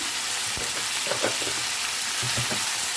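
Onions frying in a pan with tamarind and salt for onion chutney, a dense continuous sizzle with scattered spatula scrapes and stirring knocks close by.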